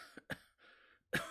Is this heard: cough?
yes